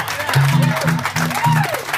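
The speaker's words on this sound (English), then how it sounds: "let's give a big round of applause for Beauty and the Bear!" At a wedding toast, a crowd gives the couple a burst of applause, with loud whoops and cheering voices rising and falling over the clapping.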